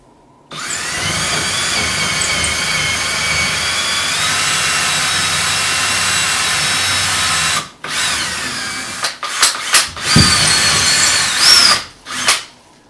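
A power drill bores pilot holes into a wall stud for TV mount lag bolts, whining loud and close in one long steady run, then several short stop-start bursts as the bit is backed out.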